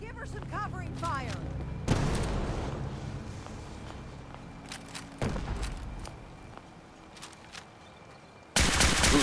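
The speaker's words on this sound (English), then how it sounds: "Fire at will! Watch yourself. Give her some covering fire." Gunfire in a firefight in the video game Fallout 4 Far Harbor, with sharp bursts of shots and loud blasts scattered over several seconds and in-game voices shouting between them.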